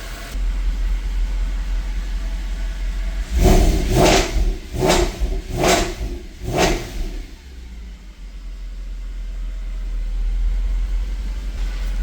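A Mercedes E63 AMG engine idles steadily, then revs sharply five times in a quick rhythm before settling back to a smooth idle, close and loud.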